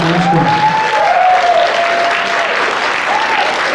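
Comedy club audience applauding for the host as a stand-up set ends, a full burst of clapping and cheers under a voice speaking over it.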